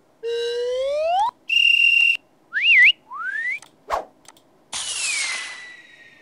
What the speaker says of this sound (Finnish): Vaikka vihellysääniä.